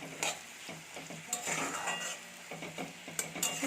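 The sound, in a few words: frying chopped onions in oil until browned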